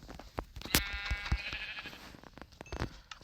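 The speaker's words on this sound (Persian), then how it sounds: "یه گوسفند دیگه هم بکشم" A sheep bleats in the Minecraft video game, one clear wavering bleat up close over soft background clicks and game sounds, with no one talking.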